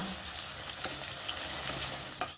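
Poha frying in a pan with turmeric, salt and peanuts, a steady soft sizzle with faint stirring scrapes and a couple of light utensil clicks near the end, close and fairly quiet.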